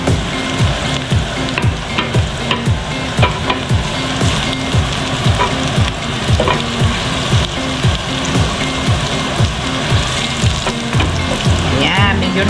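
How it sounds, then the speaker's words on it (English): Garlic browns in oil in a large pot, crackling loudly and continuously while a spoon stirs in quick, regular strokes. "let's brown the"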